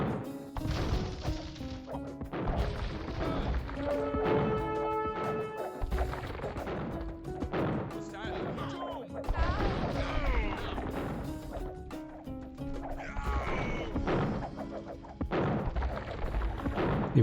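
Cannons in Age of Empires II: The Conquerors bombard enemy towers, sharp booming shots and crashing impacts recurring every second or two over a musical backdrop.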